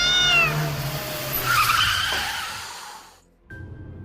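In a horror story scene, a car skids and its tires squeal as a black cat is run over, and the cat lets out a loud, wavering screech over the skid. The sound cuts off abruptly, then a faint tone rings on.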